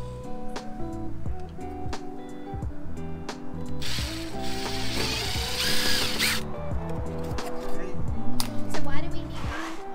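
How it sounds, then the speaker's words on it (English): A mod plate is riveted onto a caravan, with rapid ratcheting clicks and snaps from the riveting tool repeating up close. A denser burst of mechanical noise comes midway. "Let's go and rivet a mod plate on the vans."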